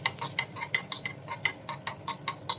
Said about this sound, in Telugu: ఈ పోపు దగ్గరేనండి కొద్దిగా ఆయిల్ వేసినప్పుడు పోపు దగ్గర కొంచెం జాగ్రత్తగా వేయించుకోవాలన్నమాట.